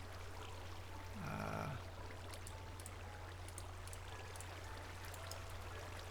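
Flowing water in Minecraft, a steady soft rushing stream that continues throughout, with a low constant hum beneath and a brief louder tonal sound early on.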